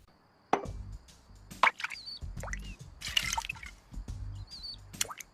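A drinking bird toy tips its beak into water, giving a few sparse drips and small wet clicks with quiet pauses between them, close by and fairly soft, with no talking.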